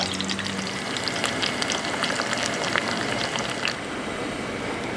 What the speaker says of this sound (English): We're going to saute those for about 12